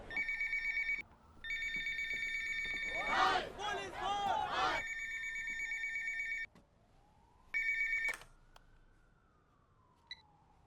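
A telephone rings on an outgoing call during a hospital hostage standoff, sounding in repeated bursts of bright electronic ringing with a rising and falling siren-like wail and a short loud noisy burst in the middle.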